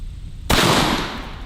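A shotgun fires a single double-aught buckshot load at steel targets, a sudden loud close blast that tails off into a broad decaying roar.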